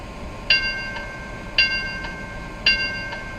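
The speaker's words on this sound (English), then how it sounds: "Now our bell should work." Three evenly spaced bright dings from the bell of an MTH Washington DC PCC model streetcar from 1999, each with a short ringing decay over faint hiss.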